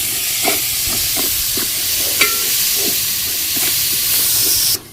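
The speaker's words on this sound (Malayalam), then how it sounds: "സവാളയും പച്ചമുളകും നല്ലട്ട് വരട്ടി വെക്കാം." Onions and green chillies sauté in a hot pan with a loud, steady sizzling hiss, broken by regular soft stirring scrapes, before the sound cuts off abruptly.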